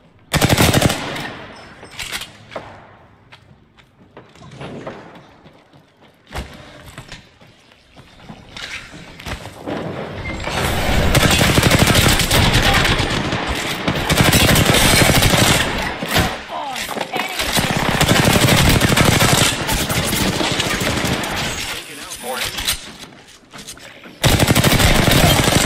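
Rapid automatic gunfire in the Apex Legends shooter, loud bursts of shots repeating across the clip with brief quieter gaps between volleys.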